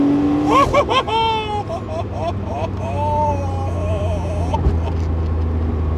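A 1990s Porsche 911 Turbo sports car engine revs hard and accelerates, a rising whine climbing through gears with a sustained roar underneath.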